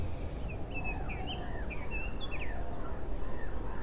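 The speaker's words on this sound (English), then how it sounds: "You hear some birds off in the distance." Distant birds call in thin, scattered chirps and whistles over a steady desert hush with faint insect skittering, the calls soft and intermittent across the whole stretch.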